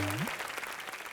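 A studio audience on a televised comedy entertainment show claps loudly in a dense, continuous burst of applause, right after a short tone fades out.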